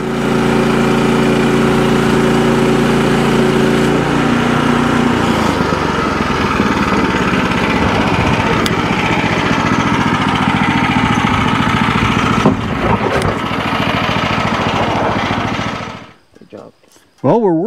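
Engine-powered saw slicing thick slabs from a cherry log outdoors, a loud continuous droning engine roar that shifts pitch as the cut bites, then drops away near the end.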